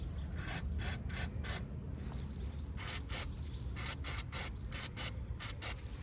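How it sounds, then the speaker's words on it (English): Wire brush scrubbing rust off a Toyota Auris or Prius hybrid front brake disc, fast rhythmic rasping strokes in repeated bursts, close and loud, with no talking. "I'm going to use my wire brush to remove the rust."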